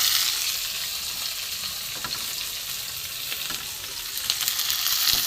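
Chopped onion and tomato sauté in a hot pan, giving a continuous close sizzle with light stirring scrapes and no voices.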